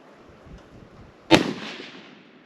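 A single sharp, loud shot from a stainless Tikka T3 Lite .223 rifle firing Winchester 55 grain soft point factory ammunition, fired outdoors with a short trailing echo and no talk.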